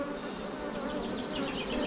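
Honeybees buzz densely at an open production beehive, a close, steady, loud drone of many wings with no talking.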